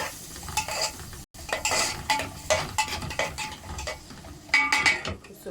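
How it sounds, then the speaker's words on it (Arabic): Onions stirred in ghee in a pan until golden, a utensil scraping and clinking against the pan in steady repeated strokes over a soft sizzle, close up with no talking. "وهقلب البصلايه لما تحمر"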